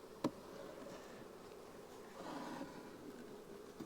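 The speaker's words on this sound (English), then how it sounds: "we'll shake these bees out of this box into here." Bees buzz around a hive box, a faint, continuous droning hum with a brief knock or bump near the start.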